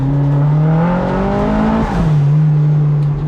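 A Mazda MX-5 running 18 PSI of boost slides on slightly overheated tyres, its engine droning loud and steady up close while the pitch dips and recovers through the slide.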